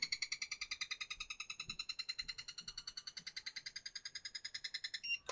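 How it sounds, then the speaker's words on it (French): An RC radio transmitter for an FTX Carnage truck sounds its trim-centering tone as a rapid, steady train of short electronic pips. A different, higher tone comes near the end, and no one speaks. "Et quand tu entends ce bip là, ça veut dire que tu es au centre de ton réglage."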